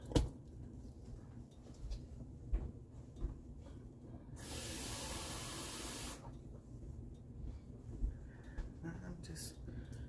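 Water poured into a hot Instant Pot insert after searing on medium sauté, giving a loud steady sizzling hiss of about two seconds, framed by quieter kitchen clatter and speech before and after.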